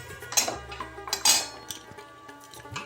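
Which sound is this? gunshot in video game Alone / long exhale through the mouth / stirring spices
stirring spices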